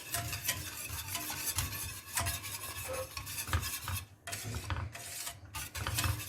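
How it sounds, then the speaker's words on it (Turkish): A spoon stirs supangle chocolate pudding mixture in a pot on the stove, giving a steady, continuous scraping and swishing with a repeating rhythm, close and moderately loud, with no talking. "Kaynayana kadar iyice karıştırıyoruz."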